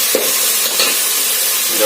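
Curry leaves frying in hot oil for a dhaba-style moong dal tadka, a loud continuous hiss and crackle close up with small stirring scrapes, and no talking.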